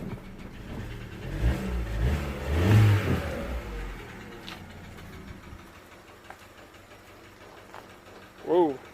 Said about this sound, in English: Let me see what it does when I accelerate a little bit.